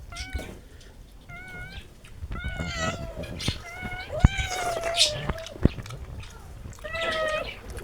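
Two pet cats meow repeatedly in short, rising and falling cries while waiting to be fed fish, with soft chewing or mouth sounds between the calls, close by and clear.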